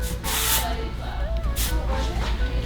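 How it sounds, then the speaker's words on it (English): Texture spray is sprayed onto curled hair in short hissing bursts, two or three close, loud sprays with faint voice underneath between them. "we're gonna just take a little bit of texture spray. Nothing crazy, but just spray a little so the curls will hold"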